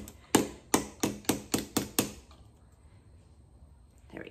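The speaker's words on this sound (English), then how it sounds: "You don't need to watch every single hammer stroke" Hammer strokes shaping a copper hinge in a workshop, seven sharp, ringing metallic blows in a steady rhythm, close and fairly loud, followed by a quiet pause and one more faint knock at the end.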